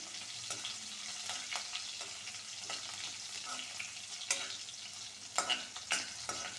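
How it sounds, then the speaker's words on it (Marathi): Jackfruit pieces with green chilies roast in a pan while a spatula stirs them in scraping strokes over a low steady sizzle, with several louder scrapes near the end. "चांगली भाजून घेते व्यवस्थित"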